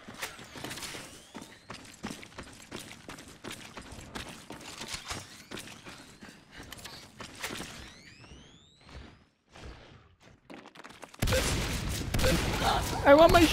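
Shotgun blasts and other weapon fire in the sci-fi shooter Natural Selection 2, a series of sharp shots and clatter spread through the clip under players' voices, ending in a louder burst of noise.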